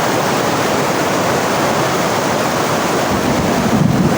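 Water pours for making dough in a loud, continuous rushing stream that stays close and steady throughout, with no talking.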